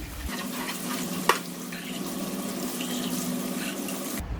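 Water poured from a container into a pot of tomato-based Provençal veal sauté with olives, cooked in bulk for a canteen; a steady, close rushing pour lasts about four seconds.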